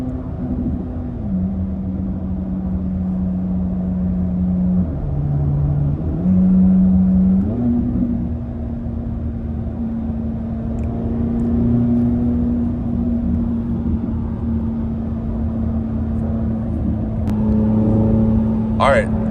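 A Corvette C8 Z06 engine driving in Z mode on a highway at night, a steady loud droning engine note that dips and climbs in pitch a few times with gear and throttle changes, heard from inside the car with a person talking over it.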